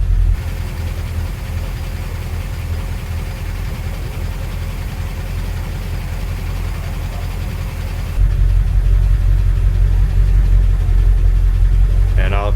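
A 1957 Dodge Power Wagon engine cranks and runs at a steady, loud idle, a continuous low rumble that grows heavier partway through.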